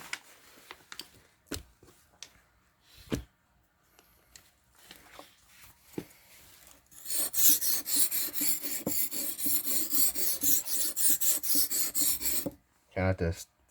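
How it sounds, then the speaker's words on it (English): A file sharpens the edge of a butter knife, starting with scattered taps and scrapes and then giving about five seconds of steady, rhythmic rasping strokes close by, followed by a short final burst. "Some final sharpening,"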